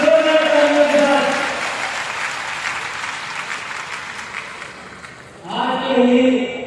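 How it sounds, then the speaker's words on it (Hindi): A crowd at a political rally with the chief minister applauds loudly and continuously. An amplified voice speaks over the start and end of the clapping. "जोरदार तालियों के साथ, जोरदार तालियों के साथ"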